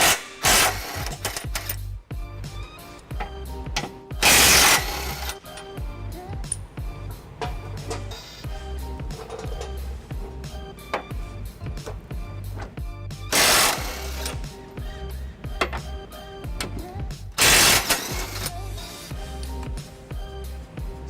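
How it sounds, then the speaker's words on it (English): A ratchet with a 21mm socket undoes the trailer hitch mounting bolts on a 2018 Dodge Durango, giving rapid, repeated clicking in bursts with a few louder metallic knocks between them. "I've got a 21mm socket here to undo these bolts"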